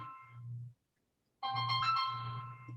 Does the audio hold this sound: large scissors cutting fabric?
no